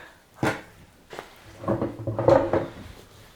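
A drawer in an entertainment unit slid open with a wooden knock, scrape and rattle of its contents, a few close bumps building to a louder clatter.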